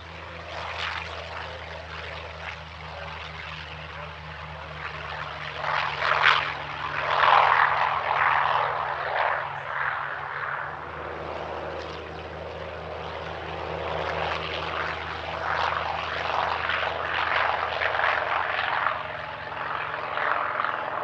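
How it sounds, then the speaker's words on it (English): A pair of F4U Corsair Second World War propeller fighters flying at an airshow, a moderately loud droning engine pass that rises and falls in waves across the whole clip. "Another Second World War duo now, a pair of F4U Corsairs."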